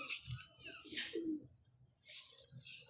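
A pigeon coos in short, soft bursts close to the microphone over low handling noise, with faint chirps and rustling around it.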